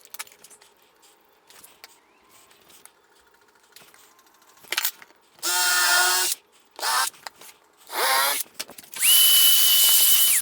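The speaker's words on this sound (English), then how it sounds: "I'm gonna use a 1/2 inch Forstner bit to put some holes" A drill with a 1/2 inch Forstner bit bores holes into a wooden shelf board, four loud whirring bursts of one to two seconds each, with quiet handling sounds and small knocks between them, close and with no talk.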